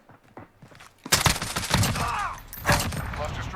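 Full-auto bursts from a VKS rifle in Call of Duty: Modern Warfare rattle loudly in rapid succession for a couple of seconds, following quieter sounds at the start.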